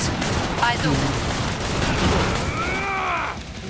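Rapid bursts of pistol fire in the video game Killing Floor 2, loud and continuous, with a whining electronic sweep near the end.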